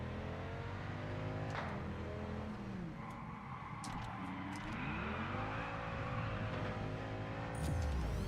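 Cars drive through a parking area in the racing game Test Drive Unlimited Solar Crown, with a steady engine drone and rising and falling revs from passing vehicles, loud and continuous with no speech.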